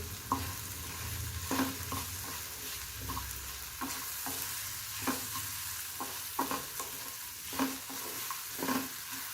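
Masala with a few cashews and a little coriander roasts in a pan under a steady soft sizzle, while a spoon scrapes and stirs in repeated light strokes.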